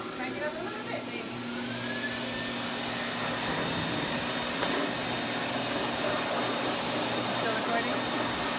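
Continuous whooshing roar of a high-velocity dog grooming blower drying a Samoyed's thick coat, steady and fairly loud for the whole stretch with slight shifts in pitch as the airflow moves.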